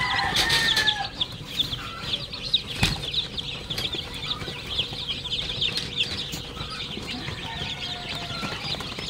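Pure-breed chickens and newly hatched chicks in a brooder cluck and cheep, with wing flapping and scuffling nearby, scattered chirps over a busy, moderately loud background.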